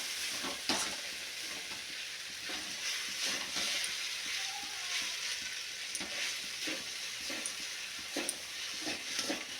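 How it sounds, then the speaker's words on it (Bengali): Sabudana (sago pearls) being stirred while cooking in a pan, a steady close sizzle with repeated soft scraping strokes of the spoon throughout. "ধীরে ধীরে নাড়তে নাড়তে সাবুদানাগুলো সুন্দরভাবে তৈরি হয়ে গেছে।"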